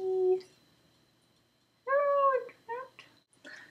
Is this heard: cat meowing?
yes